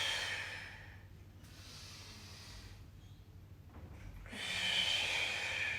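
Slow, audible breaths in and out during a Pilates exercise, with a long hissing exhale near the mic over steady background noise, and no speech.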